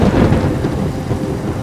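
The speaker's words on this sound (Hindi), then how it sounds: "बाहर अभी भी कड़क रही थी बिजली और था" Thunder rumbles loudly through a storm, a dense continuous roll mixed with heavy rain noise, close and enveloping with no voices.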